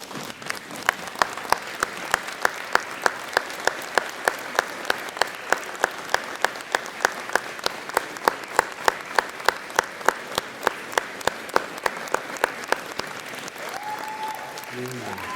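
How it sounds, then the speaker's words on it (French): A graduation ceremony audience stands and applauds the staff, a large crowd clapping together in a steady, evenly spaced rhythm that continues throughout, with a brief voice near the end. "vous permettre de vous lever et de leur offrir une main d'applaudissement"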